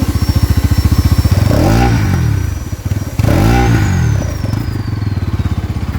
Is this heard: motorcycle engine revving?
yes